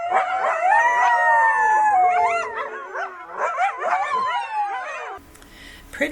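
Coyotes howling at night in a chorus of overlapping high wavering howls and yips, loud and close, breaking off near the end into a brief noisy stretch.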